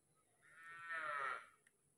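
A cow moos once in a village, a single drawn-out call that rises and fades over about a second, fairly close and clear against quiet rural background.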